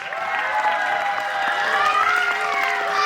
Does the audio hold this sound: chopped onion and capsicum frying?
no